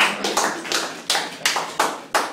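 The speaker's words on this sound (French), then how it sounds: "Applaudissez-la," Audience clapping during a talk, heard as a few slow, separate rhythmic claps spaced evenly, close and fairly loud, each ringing briefly in the room.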